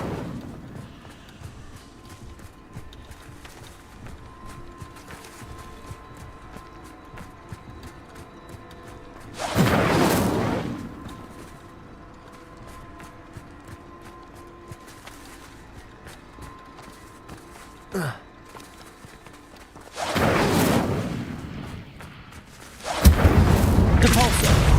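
A fire spell cast in the Hogwarts Legacy video game flares up as a short whooshing burst, one of several loud, brief spell blasts that rise over a low, steady game ambience.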